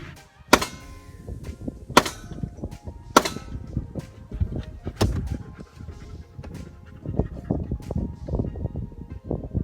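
A few sharp gunshot cracks ring out early during gunfire training for a dog, about three spaced bursts in the first few seconds, followed by ongoing lower rustling and clatter.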